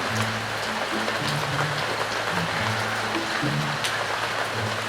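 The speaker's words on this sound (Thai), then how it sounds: "ฝนตก" Steady rain pours down outdoors in Rayong, Thailand, near a pagoda standing in water. The close, dense hiss continues without pause, with a low rumbling hum beneath and no talking.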